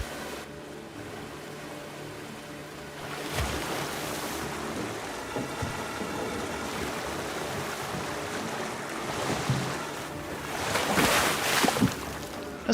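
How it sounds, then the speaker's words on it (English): Waves slosh steadily in a tropical wave pool in the video game Planet Coaster 2, a continuous watery rush with surging swells that grows somewhat louder toward the end. "You got a wave pool right over here."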